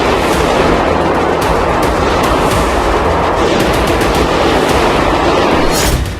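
Heavy gunfire inside the Crocus concert hall near Moscow during a terrorist attack, a dense, continuous barrage of shots lasting several seconds, loud and harsh with no pauses.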